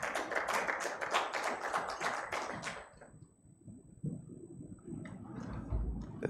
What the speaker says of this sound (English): The audience in here is clapping for you